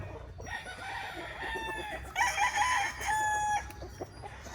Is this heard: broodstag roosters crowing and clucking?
yes